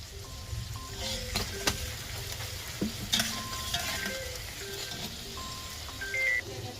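Chopped onion frying in hot oil in a home kitchen pan with salt and a bay leaf added, a steady close sizzle with scattered stirring scrapes and clinks throughout.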